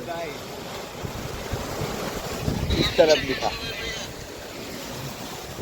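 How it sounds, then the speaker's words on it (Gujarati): Strong cyclone wind roars steadily across the microphone, with gusty buffeting and a brief swell of louder rushing in the middle, while someone speaks briefly over it. "ये देखो हवा कितनी तेज है"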